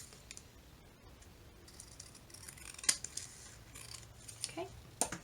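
Scissors trimming paper for a junk journal made from leftover paper pads, with a few sharp snips standing out over low room noise and faint background sounds.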